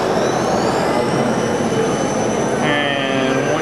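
A Ghostbusters proton pack prop idles with a steady electronic hum droning continuously, layered with high whining tones, and a brief higher buzz joins near the end.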